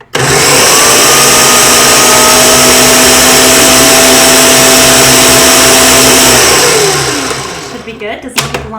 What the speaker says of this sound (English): And we are going to blend that up.